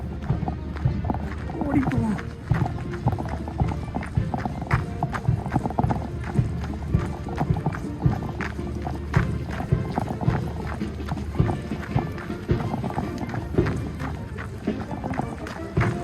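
Queen's Guard cavalry horses pass by Buckingham Palace, their hooves clip-clopping rapidly and continuously on pavement at moderate distance, with people talking nearby throughout.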